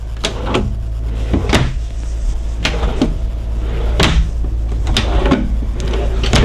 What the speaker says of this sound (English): this little drawer flips down and reveals another Blu-ray player